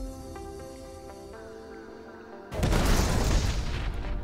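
A size 2 missile strikes the Eclipse ship in a space combat video game, a sudden loud, broad explosive boom that cuts in after a quiet tonal game hum and rumbles on to the end.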